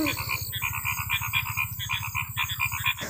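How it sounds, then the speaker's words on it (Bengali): Frogs croak at night in rapid, rhythmic pulses, fairly close and loud, with another chirping trill layered above. No voices are heard. "চারিদিকে শুধু ব্যাঙের ডাক"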